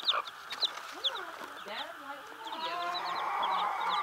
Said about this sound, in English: Six chicks in a basket.